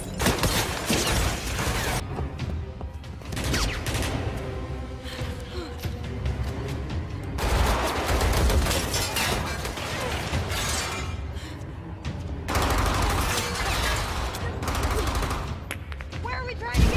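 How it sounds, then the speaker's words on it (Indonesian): Gunfire from an action scene in the film Black Widow, with dense bursts of shots and clattering impacts running almost continuously over a busy soundtrack of music and effects. "Dalam derunya tembakan para widow, Natasha dan Yelena kabur sambil menghindari peluru"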